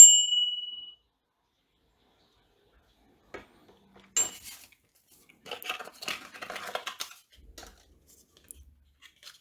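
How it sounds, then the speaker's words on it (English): A small AirBell bicycle bell, a standard-looking bike bell designed to hide an AirTag, gives one clear bright ding at the start. A few faint metallic clicks and rattles follow in an otherwise quiet room. "So it looks like a standard bicycle bell,"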